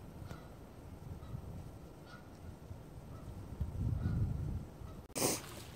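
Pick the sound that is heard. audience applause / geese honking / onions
geese honking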